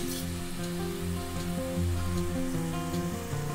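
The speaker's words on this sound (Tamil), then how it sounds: "தக்காளி நல்லா வதங்கட்டும்." Tomatoes with chili powder sautéing in a pan make a steady, moderate sizzle that crackles like light rain, with a low hum underneath and no voices.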